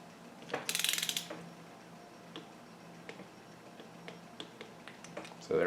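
A torque wrench tightens engine bolts on a 1971 Honda CB175 during final engine assembly, a series of small sharp ratcheting clicks spaced out at irregular intervals, with a louder burst of rattling near the start.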